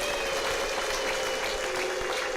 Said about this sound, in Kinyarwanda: Tubashimire tubaha amashyi n'impundu